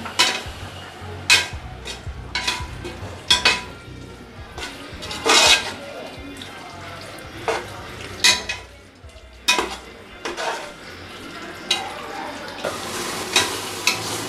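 Mushroom biryani masala being stirred in a pan, a spoon scraping and clinking against the metal in irregular bursts over a soft sizzle of frying, close by.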